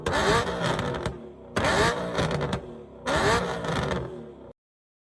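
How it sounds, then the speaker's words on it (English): A BMW E92 car engine revs hard three times in a row, each loud burst rising then cutting off, with brief pauses between and silence at the end. "I love your engine, man."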